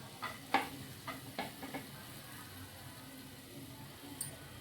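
Ginger and garlic pieces fry quietly in a hot pan. A soft, steady sizzle is broken by a few light clacks of stirring near the start.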